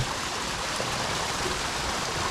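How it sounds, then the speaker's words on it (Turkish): Steady broadband rush of a stream pouring heavily down from above into a natural pond in a German forest, continuous and close with no voices. "Bakın hem de çok fazla su geliyor arkadaşlar"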